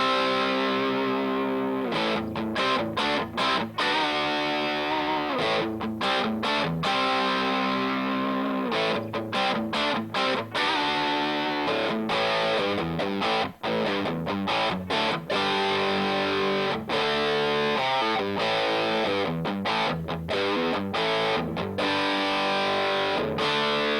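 Electric guitar, an Orville Les Paul Gold Top through a Ceriatone Cream Brulee tube amp with heavy distortion, plays chords and riffs continuously, loud and close, in a vintage rock tone.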